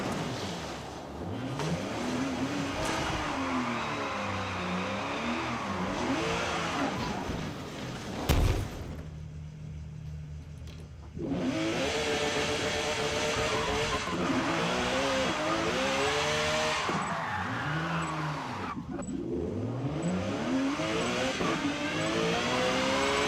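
Race cars accelerating together at the start of a Super Sedans race in Forza Motorsport, loud engines revving and climbing through gears, with a brief gap in the roar before the pack surges again.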